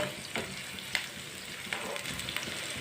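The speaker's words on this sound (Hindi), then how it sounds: "प्याज को हल्का सा ब्राउन कर लेंगे।" Finely chopped onion frying in about half a cup of oil until lightly browned, the base for a bottle gourd curry. A faint, even sizzle plays close by, with occasional crackles and stirring taps and no talking.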